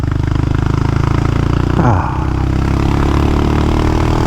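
A Honda Monkey motorcycle rides over gravel, its small engine holding a steady, close buzzing drone that dips briefly in pitch, with faint crunching and clatter beneath the constant hum.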